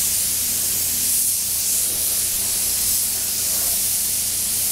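A spray gun lays down paint coats on a Benelli motorcycle panel, giving a steady, loud, continuous airy hiss close to the listener with no breaks or talk.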